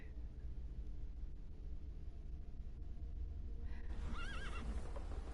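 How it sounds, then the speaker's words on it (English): A horse in the video game The Thaumaturge gives a clear whinny toward the end, with faint hoof clip-clops and quiet ambience before it, at low overall level and with no speech. "I meant to take the horse out for a ride"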